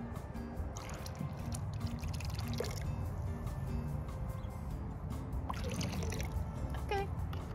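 Black fabric dye pours from a bottle into water, a steady close liquid gurgle and splash that runs continuously with a few brief clinks on top.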